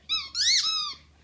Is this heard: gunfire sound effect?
no